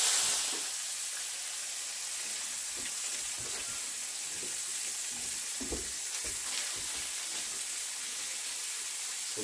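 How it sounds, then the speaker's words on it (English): Bacon sizzles steadily on a griddle set to about 350 degrees, a loud, even frying hiss with faint crackles and pops throughout, with no voices. "So the first thing we got going here is our bacon. We got the griddle on about 350 degrees."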